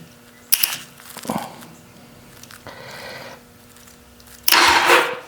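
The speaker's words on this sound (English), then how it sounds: "So the engine will turn." A 1986 Honda Rebel 450 motorcycle's starter cranks the engine in short bursts separated by quiet gaps, with clicks and handling noises between them, close and moderately loud.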